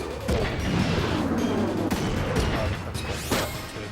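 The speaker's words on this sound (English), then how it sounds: "Our main weapon is rocket launcher." Rocket launcher fire in the Front Mission 3 mech strategy game, a quick series of loud bursts and crashing impacts with sweeping whooshes between them.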